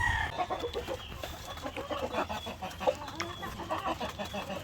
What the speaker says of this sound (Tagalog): So ito yung mga white leghorn natin mga ka-farmers.